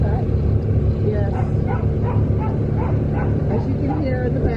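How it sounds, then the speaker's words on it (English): A puppy whimpers and yips inside a car, a run of repeated short high cries over the steady low rumble of the moving vehicle. "one of the puppies in the car is upset"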